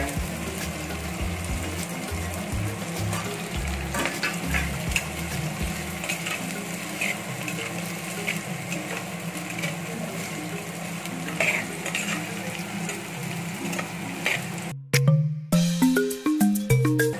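Sliced onion and green chilli frying in a pan for a small carp fish curry give a continuous sizzle with stirring scrapes, ending in a few louder metallic knocks against the pan.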